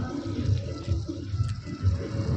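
Irrigation water flows into a cumin field from a tank, making a low, churning rush that surges unevenly at moderate volume without talk.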